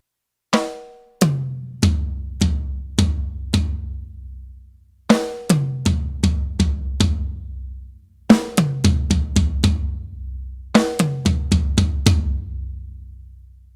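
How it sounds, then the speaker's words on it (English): Four triplet drum fills in a row, each a quick run of strokes that moves from the snare down through the rack tom and floor tom. Clear, close hits with no talking. "I'm finishing with 4 single strokes down on the floor tom"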